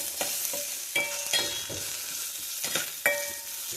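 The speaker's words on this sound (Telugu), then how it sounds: "ఇవన్నీ క్యారెట్ ఫ్రై అయిపోయింది, ఆనియన్ ఫ్రై అయిపోయింది, టమాటా కూడా మగ్గిపోతుంది." Carrot, onion and tomato sizzle in a pan while a utensil stirs and scrapes through them for wheat Maggi, giving soft frying noise punctuated by several distinct scraping strokes, close and without talk.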